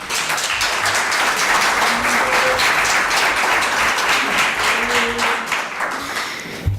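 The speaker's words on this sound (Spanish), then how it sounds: "Aplausos para él." A crowd applauds steadily throughout, a dense wash of many hands clapping at once, with faint voices mixed in.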